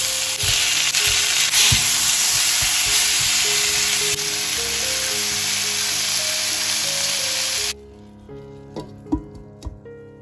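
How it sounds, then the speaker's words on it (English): Tomatoes frying with turmeric powder in a pan for Nepali momo sauce, a loud steady sizzle for most of the clip that cuts off abruptly near the end, followed by a few faint knocks and scrapes. "Add curcuma powder, fry a bit and add the tomatoes."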